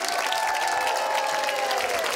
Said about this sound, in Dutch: En blijf klappen